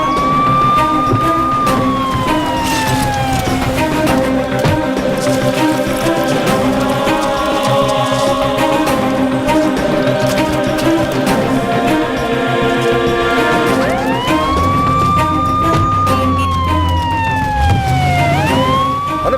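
An ambulance siren sounds in a scene from a Malayalam-dubbed South Indian action thriller, loud wailing sweeps rising and falling over rumbling traffic, with a second cycle swelling near the end.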